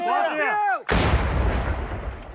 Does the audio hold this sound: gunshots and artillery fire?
yes